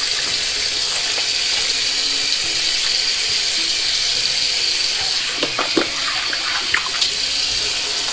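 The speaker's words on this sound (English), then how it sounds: "I just dipped it under the water, the faucet a little bit." Water running from a bathroom faucet while lathering shaving soap, a steady hiss throughout with a few faint clinks and splashes toward the end.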